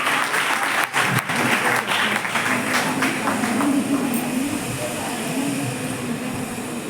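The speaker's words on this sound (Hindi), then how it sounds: "तालियों की गड़गड़ाहट के साथ स्वागत करिए बहन का।" Thunderous audience applause fills a hall at a Hindi-language event on One Nation, One Election, welcoming a speaker to the stage; dense, steady clapping runs loud and continuous throughout, with a few voices faintly underneath.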